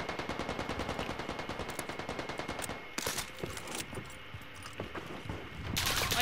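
Automatic gunfire in a video game shooter: a fast, even stream of close shots for about three seconds, then scattered bursts and sharper cracks, fairly quiet overall.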